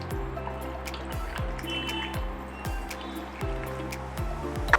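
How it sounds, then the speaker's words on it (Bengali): Two bowls of water are poured onto a semolina and potato mixture for crispy pakoras, giving a steady close trickle with repeated drips and splashes that runs throughout, quiet and with no speech. "সেই বাটির মাপে আমি দিয়ে দেবো 2 বাটি জল।"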